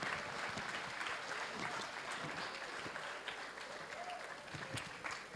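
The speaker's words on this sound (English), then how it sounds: "A round of applause for Fatu Juka Dabo" Audience applause rings out for a STEM award winner at the SHE Awards Gambia 2022 ceremony, a steady wash of clapping from a crowd that holds for the whole stretch at moderate distance.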